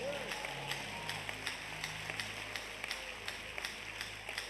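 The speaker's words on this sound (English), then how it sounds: "Clap well, oh." A church congregation at a Sunday service claps in a steady, even rhythm, distant and fairly faint, with voices underneath.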